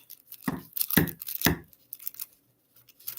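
Scissors snip through basket-making material in three sharp, close cuts spaced about half a second apart, followed by fainter rustling and handling noises in a quiet room.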